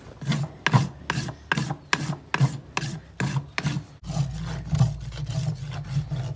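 Rasp strokes scraping excess glue off a glued-on horse shoe clog on a hoof, about eight even back-and-forth rasps followed by a steadier continuous filing sound, close and alone.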